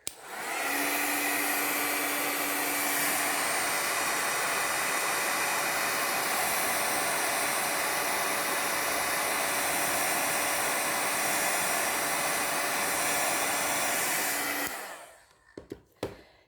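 A heat tool blasts hot air over a Stampin' Up! paper craft piece, a loud steady roaring whoosh for about fifteen seconds before it cuts off, followed by a few faint handling clicks.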